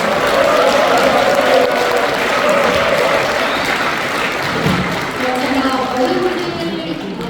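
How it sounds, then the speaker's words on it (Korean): An audience of older attendees at a civic humanities lecture gives sustained applause for the lecturer, a continuous crackling wash of clapping with a voice speaking over it. "백지원 강사님께 큰 박수 부탁드리겠습니다"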